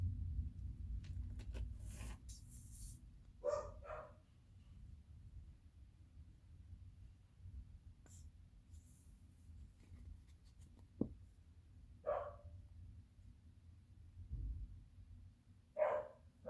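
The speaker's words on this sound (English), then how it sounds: "Sorry about my dogs." Dogs bark in short, separate bursts at a moderate distance, a few yips spread across a quiet room with faint handling and crafting noises between them.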